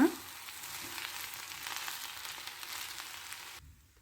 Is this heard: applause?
no